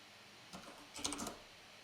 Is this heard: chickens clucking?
no